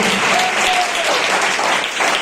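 Dense, steady applause from a church congregation filling the room, loud and continuous throughout with no break.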